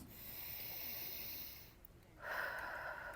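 Forceful exhales of kapalabhati breathing practice sound as a low, airy rush of breath through the nose, a sustained hiss that fades and then returns as a sharper, louder puff near the end, with no talking.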